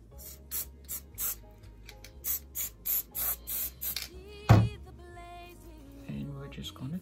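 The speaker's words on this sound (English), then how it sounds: "I'm going to spray a little bit on this side here." A series of short rattling clicks comes in a quick rhythm, followed by one brief, sharp hiss from a spray can onto a cardboard box, with faint noises after.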